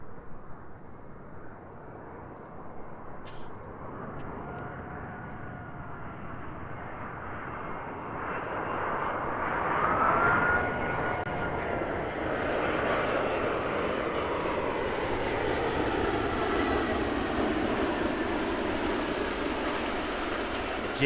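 A large Airbus A380 jet airliner roars in to land at Christchurch Airport, its engine noise swelling and whining as it approaches, a broad continuous rumble that grows louder and holds.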